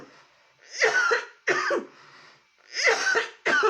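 Several harsh, raspy coughs come in bursts, close and fairly loud, with short pauses between them.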